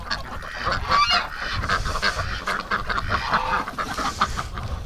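Geese honk loudly and repeatedly, led by a gander among a winter flock of ducks and geese, with overlapping harsh calls filling the whole stretch.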